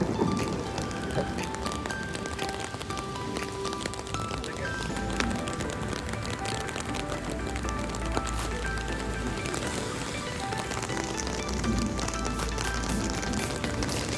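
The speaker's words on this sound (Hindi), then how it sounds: "बहुत तेज़ बारिश शुरू हो गई है, बहुत तेज़।" Heavy rain pours steadily during a storm on the Coogee to Bondi coastal walk in Sydney, a dense broadband hiss that stays loud throughout, with faint background voices and street noise mixed in.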